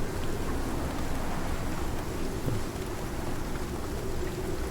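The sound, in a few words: rain in the video game Icarus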